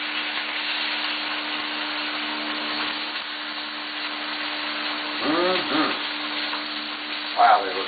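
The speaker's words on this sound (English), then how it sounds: "Got it a little seared on both sides" North Carolina black bear meat searing in a pan gives a steady low sizzle under a constant hum, with brief murmured voices near the end.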